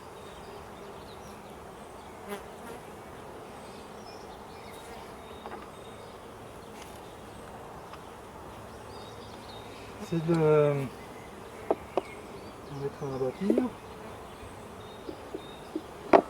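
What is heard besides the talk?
honeybees buzzing around hive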